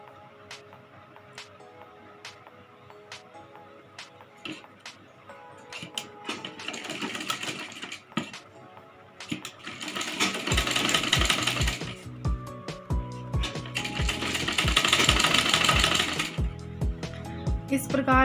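A sewing machine stitches a Rajputi kanchali blouse, starting with sparse clicks and then running in two long bursts of steady whirring rattle, close and fairly loud, with a voice speaking over the quieter parts.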